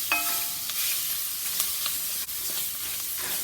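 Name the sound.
diced onion frying in gumbo roux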